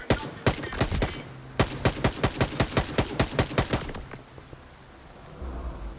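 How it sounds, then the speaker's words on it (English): Rapid bursts of video-game gunfire in a firefight, sharp evenly spaced shots in two volleys with a short pause between, loud and close, then fading into quiet background noise. "I'm gonna at least finish this firefight first"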